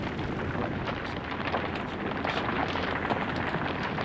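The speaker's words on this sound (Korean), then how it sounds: "1차 폭발을 일으키는 유조차." Fuel-laden oil tanker truck, overturned after a crash inside a road tunnel, bursting into a first explosion: a dense, roaring blast of broadband noise that holds steady and loud throughout, with no voices.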